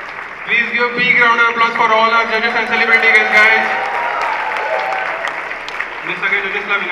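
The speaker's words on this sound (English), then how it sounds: "Please give a big round of applause for all our judges and celebrity guests" A fashion show crowd claps for the judges and celebrity guests, a dense burst of applause that swells and fades over several seconds, with a voice speaking on top of it.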